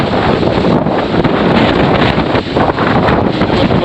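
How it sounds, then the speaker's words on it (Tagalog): Strong tropical storm wind batters a mountain campsite on Victory Peak, a loud, continuous roaring rush close to the microphone with no letup. "Gawa nang hindi pa tayo makapag-set up kasi malakas yung hangin."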